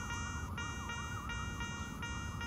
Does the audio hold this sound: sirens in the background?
yes